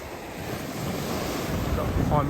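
Ocean waves wash against the Cornish coast along the South West Coast Path near Mevagissey, a continuous rolling surf mixed with wind buffeting the microphone, building slightly toward the end.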